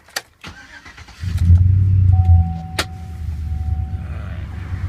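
A 2005 Chevrolet Silverado Z71 4x4 LT pickup engine cranks briefly, catches and settles into a steady, close idle with a faint whine over the low rumble.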